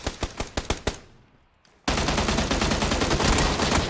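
Gunfire in the video game PUBG on Xbox: a rapid burst of automatic shots, a short lull, then a dense continuous volley of close, loud gunfire.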